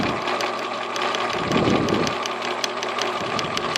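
A Bernina sewing machine runs a decorative stitch pattern, its needle chattering in a fast, even mechanical rhythm that dips briefly in the middle before resuming, loud and close, with no talking.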